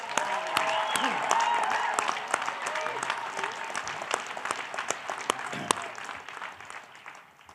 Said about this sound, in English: Please join me in thanking Dr. Troisi and her team with a very loud round of applause.